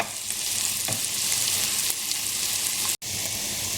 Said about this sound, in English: And now we're going to saute this for 5 to 7 minutes until they're translucent and very lightly golden.